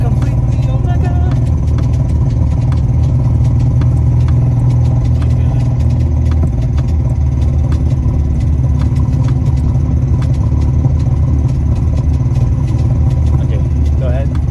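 A Datsun car's engine, driven for the first time by a novice working the clutch, rumbles steadily and loud throughout, with low mechanical clatter and revs rising as gas is given, while people talk over it.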